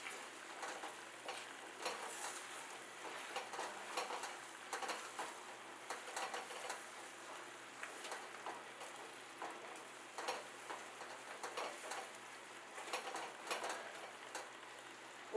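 Cashews already fried are stirred through spices in a pan for a Kaju Masala curry, giving a steady scraping, rustling stir over a soft continuous sizzle with no talk.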